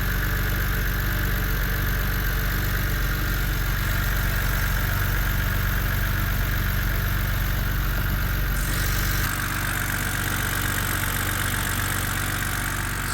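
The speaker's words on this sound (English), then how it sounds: "It was idling up and down, so yeah, idle just dropped now from cold start." A BMW Z4 coupe's N52B30 straight-six idles steadily after a cold start, a close, even hum throughout with a slight shift in tone partway through as the idle speed drops.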